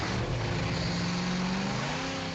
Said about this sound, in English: they'll create that classic muscle car sound and bring new life to your vehicle